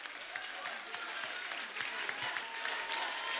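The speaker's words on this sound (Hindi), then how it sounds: "टाइगर के लिए जोरदार तालियां." A studio audience at a comedy talk show claps for the guest Tiger Shroff, brisk and continuous applause heard at low level.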